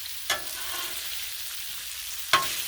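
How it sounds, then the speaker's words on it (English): Multicolor fingerling potatoes sear on a Blackstone griddle with a steady, soft sizzle, broken by two brief sharp clatters of a spatula near the start and end. "now we get that griddle sear that we love"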